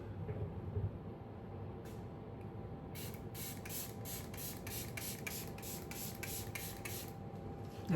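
Quick repeated spritzes of makeup setting spray, a rapid run of about a dozen short hissing puffs over a steady low background hum, close and fairly soft, no talking.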